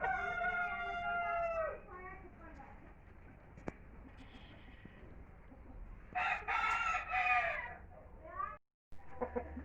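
Fancy frizzle chickens in a coop, including a hen sitting to lay eggs, cluck and squawk with a rooster-like call, fairly close and moderately loud, with a burst of louder calls near the end.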